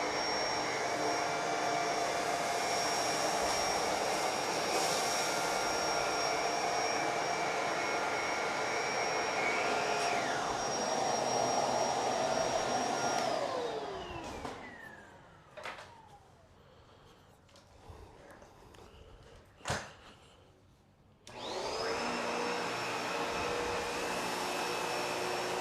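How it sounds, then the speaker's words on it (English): A Bissell Pet Hair Eraser Liftoff vacuum cleaner runs with a loud, steady whine, winds down to quiet with a few clunks and knocks, then starts up again at full power. "All right, so let's test these vacuums. Let's start off with the Pet Hair Eraser Liftoff."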